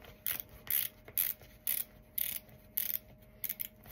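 Cable dial of a plantar fasciitis night splint released or turned, giving a run of about eight sharp ratcheting clicks in an even rhythm, close and alone.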